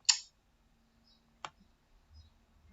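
Computer mouse clicks while browsing an article: a crisp click at the start, another about a second later, then faint soft rustles in a quiet room.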